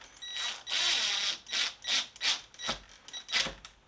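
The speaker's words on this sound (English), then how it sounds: "don't use an impact drill for this like I do" Impact drill driving a screw into a door lock during a lock replacement, a string of short rattling bursts, first a longer run then several quick hammering pulses, close and loud with no talking.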